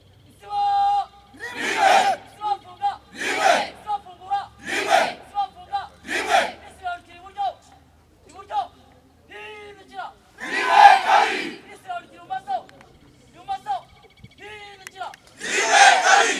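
A crowd at an outdoor closing ceremony for a civic training programme in Kinyinya erupts in repeated loud bursts of cheering and shouting, separated by short pauses, with the last burst swelling strongest.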